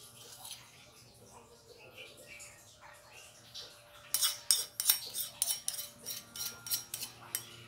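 A spoon scoops chili sauce into a bowl while a spicy vegetarian stir-fry of mushroom stems is being made. After a quiet start, a rapid run of sharp close clinks of metal on the dish follows.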